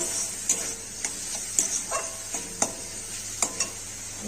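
Onions and capsicum with turmeric fry in a pan with a steady bright sizzle, while a spatula scrapes and stirs in sharp, regular strokes roughly every half second.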